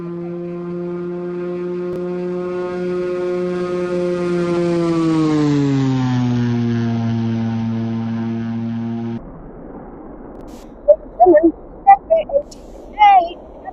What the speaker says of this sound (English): F Super Hornet flying over this event for your entertainment.